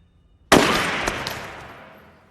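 A sudden loud burst of gunfire as terrorists shoot hotel guests erupts after a quiet moment, followed by a couple of further shots and a long echoing decay in an enclosed interior.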